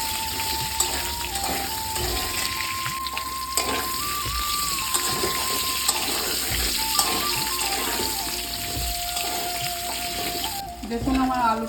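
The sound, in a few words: potatoes frying in mustard oil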